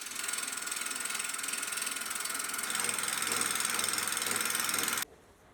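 A milling machine face mill fitted with new sharp inserts cuts through acrylic, giving a loud, steady, broadband cutting roar that holds for about five seconds and then stops abruptly.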